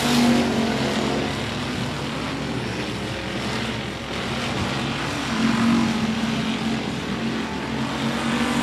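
Race cars thunder down the front straightaway at 105 Speedway during a regular race program, a continuous loud engine roar swelling and easing as the pack passes.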